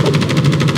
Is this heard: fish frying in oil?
no